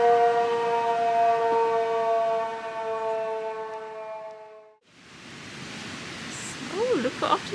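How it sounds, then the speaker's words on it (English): A civil defense siren wails on a Monday night in the French Alps, a loud, steady multi-toned drone that holds for several seconds, then cuts off into a broad outdoor hiss like rushing water or wind. "And I'll come back to you when the sirens are finished."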